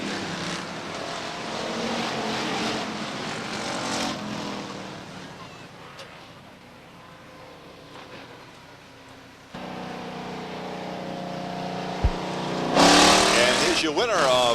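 Stock cars roar past at Beech Ridge Motor Speedway during a 1993 Limited Sportsman race, a steady engine drone rising and falling under a track announcer's commentary, with a sharp louder pass near the end.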